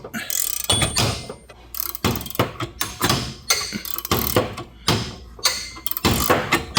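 A puller is cranked to work a pulley off the engine of grandpa's old tractor, making repeated loud, close bursts of ratcheting and metallic creaking at an uneven pace of roughly two per second.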